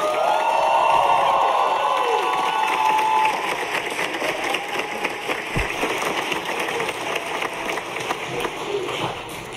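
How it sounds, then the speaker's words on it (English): A choir concert audience at Appleton East cheers and whoops loudly, with shouts and whistles over clapping, then settles into steadier applause that continues at a lower level. "So let's give a big round of applause for Sarah Wheeler."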